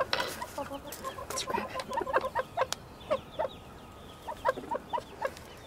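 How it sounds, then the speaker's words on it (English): Backyard urban homestead chickens cluck in irregular, agitated bursts, one hen throwing a fit, at moderate distance; a person speaks briefly in the middle. "that chicken over there is throwing a fit"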